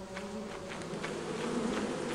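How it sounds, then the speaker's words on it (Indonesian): A bee or wasp in a video game buzzes steadily and fairly loudly throughout, a continuous insect drone with faint pulsing and no talk. "Kayak ada tawon lagi nih."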